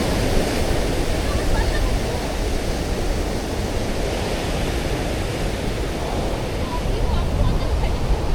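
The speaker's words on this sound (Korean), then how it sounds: "파도 올 때 파도 올 때 파도 올때자 지금 기다려" Ocean waves surge steadily onto a rocky shore at Bluff, New Zealand, a loud, continuous wash of surf with rolling swells and no distinct breaks.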